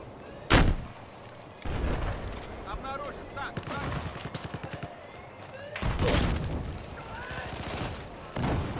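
A Battlefield 4 Rush match erupts with a sharp nearby blast, then rapid machine-gun bursts and heavy booms from a tank and small arms, loud and close, with an excited voice cutting in briefly.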